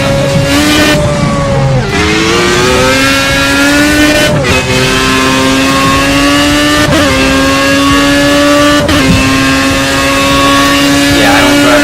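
A Formula 1 car in Project Cars racing game drives with a loud, close, high-pitched engine whine, pitch climbing through gears with several sharp shifts dropping the revs, running continuously throughout.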